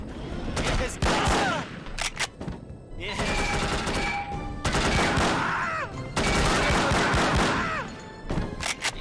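Gunfire in the spy shooter No One Lives Forever, loud rapid bursts of automatic shots in several long volleys separated by brief lulls, with someone talking between them.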